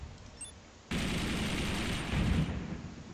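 Artillery fire from mortars in the strategy game Forts: a sudden loud burst of booming, rumbling blasts that holds steady for about two seconds with a heavier thump near the end, no talk over it.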